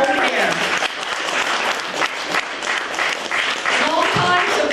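An audience at an art auction in the Shishi Gallery gives a loud, sustained round of applause, dense clapping with cheers and voices mixed in throughout.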